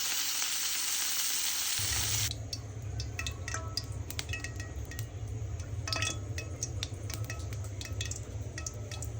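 Pieces of river fish fry in hot oil, starting with a loud continuous sizzle that drops to a softer crackle and popping, with occasional utensil clinks against the pan.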